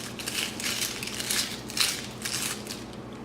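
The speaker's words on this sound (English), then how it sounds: "And then I like to peel a little bit of it." A small knife working the skin off a yellow onion, with soft, crisp scraping and papery crackling in several short bursts, close and fairly quiet, no voices.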